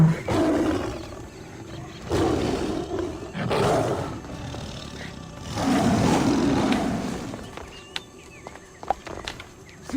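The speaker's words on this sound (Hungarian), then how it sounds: "egy oroszlán." A lion in Assassin's Creed Odyssey gives several deep, rumbling roars in slow succession, loud and close, with short pauses between them and no talk.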